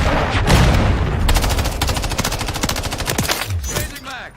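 A CZ 805 BREN rifle in Call of Duty: Modern Warfare 3 fires a long, very fast full-auto burst of loud, close cracks that runs for several seconds before stopping.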